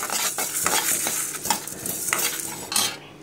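Spices frying in a pan on a medium flame crackle and sizzle up close, with repeated scraping stirs and light metallic clinks of a utensil against the pan. The sound cuts off abruptly at the end.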